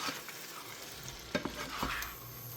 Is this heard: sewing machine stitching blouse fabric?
no